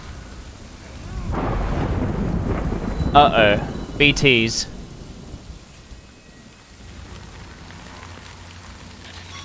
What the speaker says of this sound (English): Oh man, it started raining.